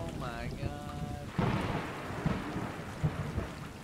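A loud thunderclap and rumbling lightning strike in the video game Stray, preceded by rain-like noise and a brief game tone, with several heavy low booms following through the storm.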